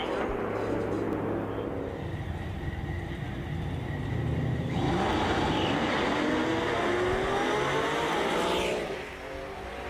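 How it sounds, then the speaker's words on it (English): A Camaro drag racing at a Carolinas street event launches down the strip, its engine roaring loud and steady, swelling as it pulls away and fading near the end, with an announcer talking over it. "Brandon Wilson's going to watch the Camaro on the right-hand side, run away and go 631 at 111 miles per hour."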